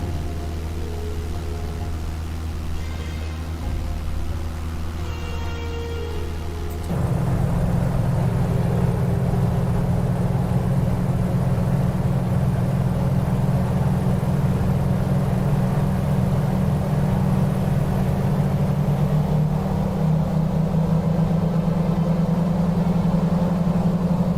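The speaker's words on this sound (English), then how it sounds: "you can really hear the echo of the engines with the mountains" Steady, loud aircraft engine drone in a flight simulator game, echoing off mountains, jumps up sharply after about seven seconds and then holds a constant roar with a low hum, no voices.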